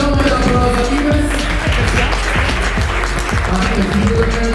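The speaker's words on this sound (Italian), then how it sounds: "Facciamo un bel applauso a Ives." Audience at a Miss Stella della Notte beauty pageant selection evening in Vicenza applauding the organizer Ives dalla Forza, loud continuous clapping close by, over a steady background of music or crowd hum.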